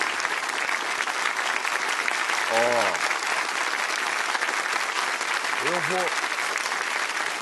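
Dense audience applause fills a Brazilian talk event, with steady clapping throughout and a couple of brief vocal shouts rising above it.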